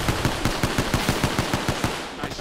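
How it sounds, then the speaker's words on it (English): Rapid automatic gunfire in a video game, a fast steady burst of about a dozen evenly spaced shots hitting an enemy shield, loud and close over a constant noisy background. "Nice shot at an enemy shield."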